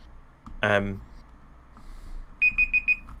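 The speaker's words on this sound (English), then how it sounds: "That's your timer." A timer alarm goes off with four short, evenly spaced high beeps, close and clear, following a brief louder burst of sound in an otherwise quiet room.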